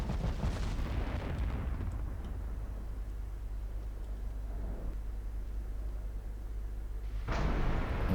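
Heavy battleship guns fire in a naval battle game, a deep booming blast rolling into a long low rumble, then a second loud report near the end.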